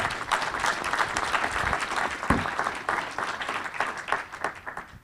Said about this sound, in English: A round of applause for Limitless